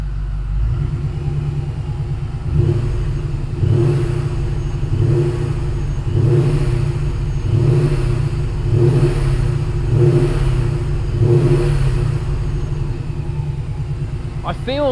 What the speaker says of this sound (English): just with tiny little blips on the throttle